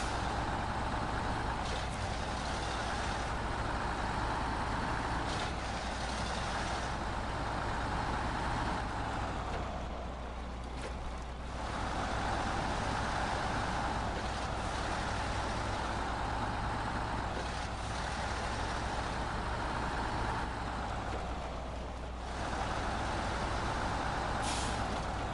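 A heavy truck grinds along in SnowRunner, a steady low engine drone with a couple of brief dips where the throttle eases, continuous and moderately loud with no voices.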